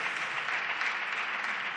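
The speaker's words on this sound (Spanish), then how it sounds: "Ese aplauso va por ellos" Applause from an audience at a talk on the human right to water, a steady sustained patter of many hands clapping, moderately loud and unbroken for the whole moment.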